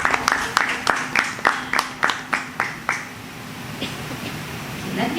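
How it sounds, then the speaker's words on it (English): Applause from the audience at a satsang gathering: about a dozen sharp, evenly spaced claps ring out in a steady rhythm, then stop, leaving faint scattered clapping and room noise. "I think the members need a big round of applause."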